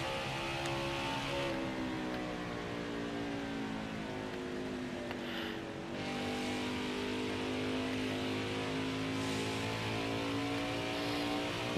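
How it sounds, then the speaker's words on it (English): A race car engine in a racing video game holds a steady drone as the car rolls through a turn at Phoenix, with the pitch dipping slightly midway and then climbing again. "I'm just letting the car roll through the whole turn, letting off a little bit earlier."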